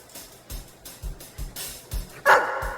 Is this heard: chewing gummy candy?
no